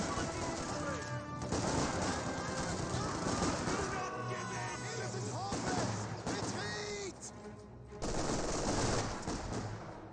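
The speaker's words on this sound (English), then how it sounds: "MG42 does force back the raid section." Bursts of MG42 machine gun fire in Company of Heroes 2, rattling almost continuously through the clip alongside other battle noise, with a commentator talking over the gunfire.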